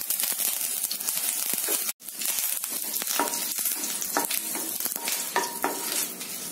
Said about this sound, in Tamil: கூடவே கருவேப்பிலையும் சேர்த்துக்கோங்க.